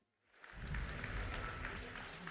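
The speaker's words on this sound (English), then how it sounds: "there was a round of applause there" Applause rises from silence at a watch party for a Halo Championship Series major in Charlotte, swelling into a steady, fairly faint, muffled wash of clapping that carries on to the end.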